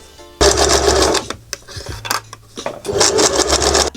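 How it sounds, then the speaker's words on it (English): A sewing machine stitches the lining and front piece of a small keychain purse, running in close fast bursts with brief pauses, loud and near, with no voices. "Now I'm going to sew one side of the lining and front piece."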